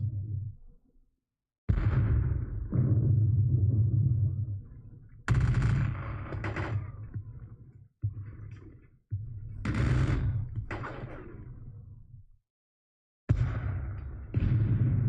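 Musket volleys and cannon fire boom in a Waterloo 1815 video game battle, loud bursts of gunfire coming in long rolling clusters with brief silent gaps between them.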